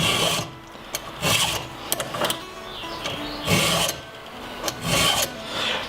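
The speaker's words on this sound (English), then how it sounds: "use a chainsaw file" Repeated rasping strokes of a round chainsaw file across a chainsaw chain's cutters, about five rough bursts in six seconds, close and fairly loud, with no talk.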